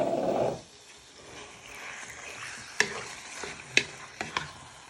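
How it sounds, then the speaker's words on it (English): Chicken sizzles quietly in a pan, with a few sharp scraping clicks of a utensil stirring and tossing it. "Let that preheat up for a minute or two before you start frying all your chicken."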